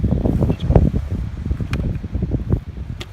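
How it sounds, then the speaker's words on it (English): Gusty wind buffets the microphone with a low, rumbling roar and uneven bursts on open ground along the Skåneleden hiking trail in Sweden. "pretty open and windy, so I hope you can hear me on this video."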